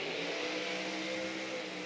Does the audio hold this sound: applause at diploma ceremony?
no